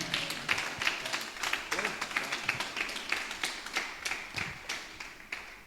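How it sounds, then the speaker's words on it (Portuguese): Congregation at a Bible study meeting clapping for Jesus, a steady rhythmic patter of many hands in a hall, moderately loud and continuous throughout. "Aplauda Jesus bem forte essa manhã."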